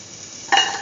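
Garlic dropped into a hot pan for curried chickpea yogurt rice bursts into a sudden loud sizzle after a quiet moment, the frying hiss holding steady to the end.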